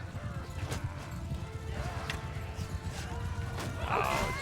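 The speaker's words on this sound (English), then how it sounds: "Let's see if we can't take out some of their horse that's still struggling about" Horses clatter and whinny amid a Mount & Blade 2: Bannerlord battle, hooves clip-clopping over a steady low rumble of fighting with scattered crashes and some speech mixed in.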